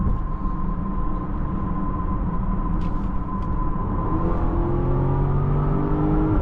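A 2021 BMW X5 M50i with a 4.4 liter twin turbo V8 accelerates from inside the cabin, a steady engine drone that climbs in pitch through rising gears toward the end, with no talking.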